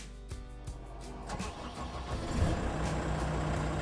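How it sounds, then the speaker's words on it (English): A Genie GTH-5519 telehandler engine turning over on the key: a few cranking pulses, then the diesel catches and settles into a steady, fairly quiet idle. "then you can use the key to turn the machine on"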